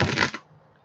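A deck of cards riffles briefly during a psychic reading, a quick close flurry of papery flutters that stops abruptly into near silence.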